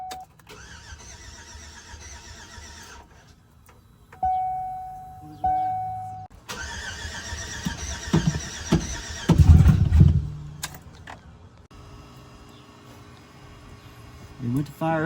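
A car engine with a leaky fuel injector cranks repeatedly on a first start-up attempt, with a brief louder burst as it nearly fires, and people talk around it.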